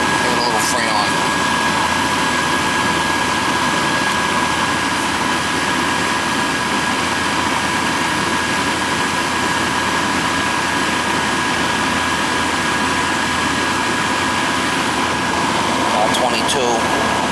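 A twenty-year-old Trane AC unit, struggling to cool and icing up, hums and whirs steadily with a loud, constant fan-and-compressor drone. A few faint clicks come near the start and end.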